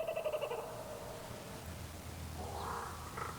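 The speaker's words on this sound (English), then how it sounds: "the laughing kookaburra. This is the one that Hollywood loves" A laughing kookaburra calls briefly in a quick run of rhythmic, pulsing hoots that cut off within a second, leaving a faint, noisy background.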